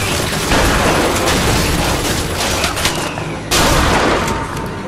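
Dense, loud bursts of gunfire fill a Bioshock Infinite shootout, with rapid shots and crackling impacts running continuously without a break, and no voices.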